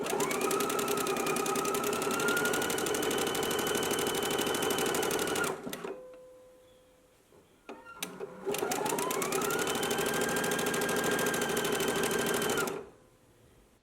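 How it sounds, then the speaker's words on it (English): A sewing machine stitching a sleeve casing on fabric runs in two long steady whirring bursts with a short pause between, close and clear with no talk. "stitch along your stitching line"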